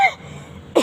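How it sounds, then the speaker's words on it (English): A single short cough from a person with a cold, fairly faint and close, followed by a brief second burst at the end. "I have cold and I've been coughing."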